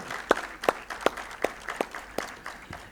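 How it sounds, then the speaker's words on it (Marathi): Hand clapping from an audience welcoming a guest at a lecture event, heard as sparse, distinct claps in an irregular rhythm, each a sharp crack over faint room noise. "त्या परुळेकर साहेबांना टाळ्या द्या"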